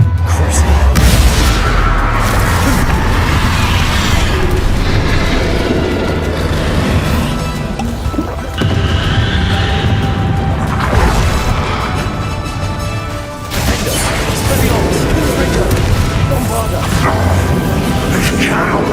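Bombarda spell explosions in Hogwarts Legacy during a battle, loud repeated booming blasts and crashing debris over dense combat noise, continuous and heavy throughout.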